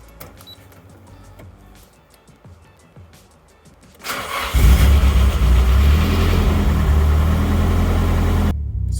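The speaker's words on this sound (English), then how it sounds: "it's finally time for the first drive, so we're gonna hop in, start it up, and just take off" A Nissan Silvia with a newly installed engine cranks over after a few quiet clicks and bursts into life, then settles into a loud, steady rumbling idle close by.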